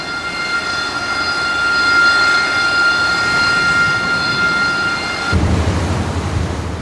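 Harrier jets aboard the amphibious assault ship USS Saipan at sea give a loud, steady jet engine whine with a sustained roar that swells and holds, then shifts abruptly to a deeper rumble near the end.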